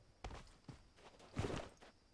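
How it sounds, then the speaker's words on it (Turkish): Footsteps approaching from the right in PUBG Mobile, a handful of soft, uneven thuds close by, quiet, with a slightly heavier scuffing pair in the middle. "Sağ taraftan ayak sesi geldi."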